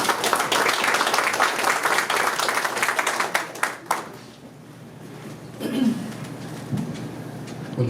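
Audience at a Peruvian Navy commemorative conference applauding to welcome a speaker, loud dense clapping for about four seconds that then dies away, followed by quiet room noise and a few soft stray sounds.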